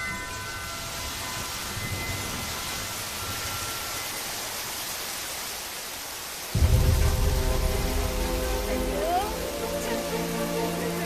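Rain falls in a steady hiss in a Telugu film scene. Partway through it grows louder and heavier, and one brief spoken exclamation comes over it.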